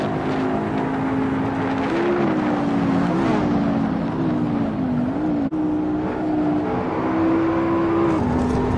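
A race car engine in the Assetto Corsa racing game, a steady loud droning whine that rises and falls with gear shifts and throttle, close and continuous without talk.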